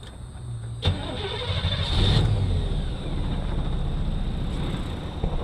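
A Jeep engine cranks with a whirring starter, then catches after about a second and runs, swelling briefly near the two-second mark before settling into a steady idle heard from close by.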